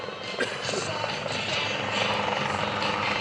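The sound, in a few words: helicopter flying at an airshow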